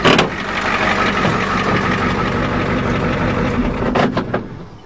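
A diesel truck engine runs with no coolant, a loud, close, rough idle with a steady knocking chug throughout and a few sharper mechanical clatters near the end.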